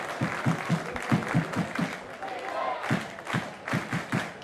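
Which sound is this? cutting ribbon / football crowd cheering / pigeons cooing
football crowd cheering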